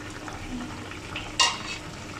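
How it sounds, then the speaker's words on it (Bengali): A quiet, steady bubbling simmer from a covered pot of fish curry with potato, eggplant and beans, broken once by a single sharp metallic clink. "দেখুন ফুটে উঠেছে।"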